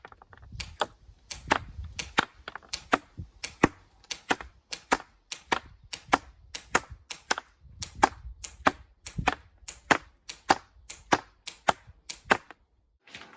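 An Action Army AAP-01 airsoft pistol fires repeatedly at a target from a standing position: a long series of sharp, snappy cracks, some spaced and some in quick bursts, loud and close.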